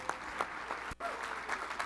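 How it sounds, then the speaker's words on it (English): Steady applause from an audience, a continuous patter of clapping with a few louder claps standing out, briefly dipping near the middle. "Please give them a big round of applause."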